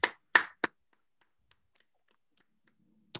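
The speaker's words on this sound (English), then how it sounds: "Everybody give a fat round of applause for Javarier." A few scattered hand claps greet a presenter at an online project presentation session: three sharp, close claps in quick succession, then near silence, then one last clap.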